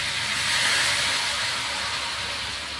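Datu Puti vinegar streams into a pan of pork adobo with a steady, close hiss and splashy rush that holds evenly for a few seconds, with no talking.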